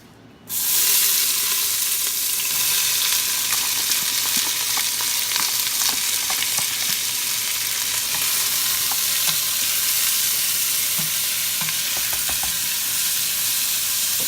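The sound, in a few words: vegetables sweating in a pot for red beans and rice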